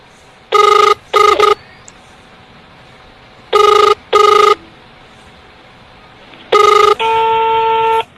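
A telephone rings in repeated bursts of two short electronic trills, three rounds in all, loud and close with no talking, and a steady tone follows the last ring.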